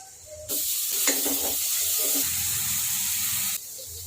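Crushed garlic and chopped onions fry in a pan, giving a steady broadband hiss and sizzle that starts abruptly, holds for about three seconds with a few faint clinks, then cuts back down.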